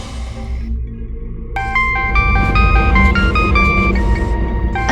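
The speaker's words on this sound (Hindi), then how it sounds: "मेरे फोन की रिंग है।" A mobile phone ringtone starts partway through, playing a bright repeating melody of clear electronic notes over a low background rumble.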